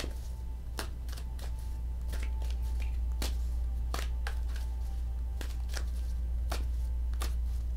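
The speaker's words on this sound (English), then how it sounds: "Shuffle till I feel like I'm ready." Tarot cards being shuffled by hand, a series of sharp riffling snaps at irregular intervals over a steady low hum, close up and with no talking.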